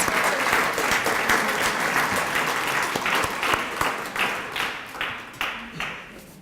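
An audience applauds steadily, the clapping thinning out toward the end into scattered individual claps.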